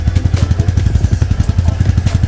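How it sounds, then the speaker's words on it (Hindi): A 2024 Royal Enfield Meteor 350 motorcycle in Aurora Black idles after starting. The single-cylinder engine thumps in a steady, rapid, even rhythm, loud and close, with no talking. "अब मैंने बाइक को स्टार्ट कर दिया है तो मैं आपको सुनाती हूँ इसकी आवाज़ को।"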